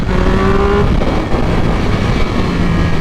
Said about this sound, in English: this bike really likes to accelerate